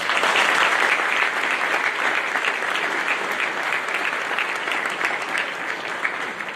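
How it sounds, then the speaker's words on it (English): Audience applause fills a high school awards night, a dense, steady clapping that holds loud throughout and eases only slightly toward the end. "A round of applause for these people."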